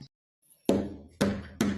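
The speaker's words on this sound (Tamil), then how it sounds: "நாதாரி வேற கதவு தண்ட ஆரம்பிச்சிட்டானே" Three loud, sharp knocks on a bathroom door come after a moment of silence, the first two spaced apart and the last following quickly, with no voices.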